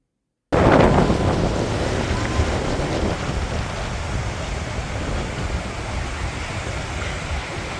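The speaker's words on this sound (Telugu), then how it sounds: "Look at the wind." Strong wind buffeting the microphone on a Cancun beach in Mexico, starting abruptly with a loud gust and continuing as a steady rushing roar with faint surf underneath.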